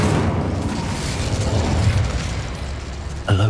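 A fire spell cast in Hogwarts Legacy produces a loud roaring, crackling burst of flame that rumbles continuously, ending with a sharp sound near the end.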